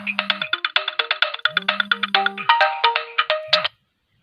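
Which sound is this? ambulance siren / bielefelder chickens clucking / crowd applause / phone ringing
phone ringing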